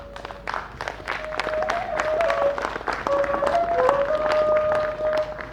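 An audience at an evening remembrance gathering applauds after a poetry recital, steady dense clapping throughout with a sustained tone ringing over it, fairly close and moderately loud.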